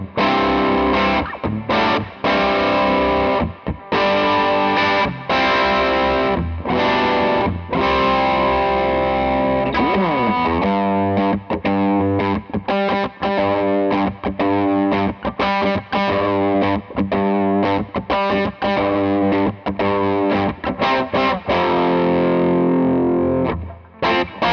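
A heavily processed electric guitar through a Wampler Ego compressor pedal, tone set to noon, plays chords and quick strummed riffs, loud and sustained, with brief pauses between phrases.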